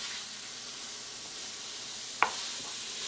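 Sausage frying in a pan for a spaghetti squash casserole, a continuous even sizzle with one sharp clink of a utensil partway through.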